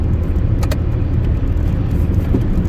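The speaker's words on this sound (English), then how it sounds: "A lot of cars here." Heavy night-time highway traffic with a semi truck nearby: a steady, close road roar and engine rumble from passing cars that continues without a break and has no speech over it.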